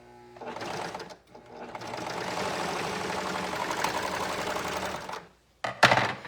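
A serger sewing machine stitches fabric in a steady, loud mechanical whir for about four seconds. It pauses briefly, then ends with a short burst of stitching.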